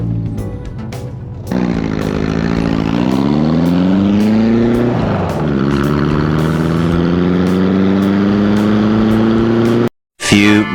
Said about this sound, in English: he offered to drive the old Beetle